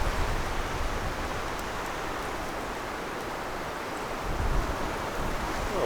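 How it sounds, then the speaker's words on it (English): Strong gust of wind blowing across an outdoor rifle range, a steady, broad roaring rush over the whole stretch that swells slightly near the end, with no voices. "That's a big gust of wind."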